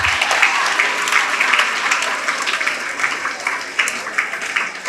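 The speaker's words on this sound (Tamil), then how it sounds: "கை தட்டுறதுல நன்றி." Students applaud together at a school event, a dense, steady burst of clapping that holds loud and close through the whole stretch with no talk over it.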